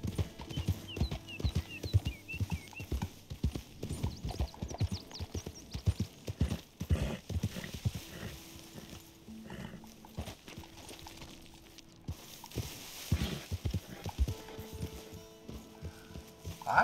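Horse hooves clip-clop steadily in Red Dead Redemption 2, a close, rhythmic run of hoofbeats with a brief whinny-like sound, and no talk over it.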